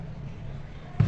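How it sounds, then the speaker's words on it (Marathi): A lid set down on a cooking pot in a home kitchen gives a single short, dull knock at the very end, after a quiet moment. "झाकण ठेवलं."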